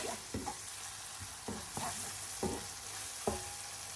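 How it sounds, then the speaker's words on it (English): A Kashmiri chili, turmeric and salt spice blend fries in a pan with a steady hiss, broken by five or six scraping stirs at uneven intervals, close and moderately loud, with no voices. "Fry this aromatic blend for 2 minutes."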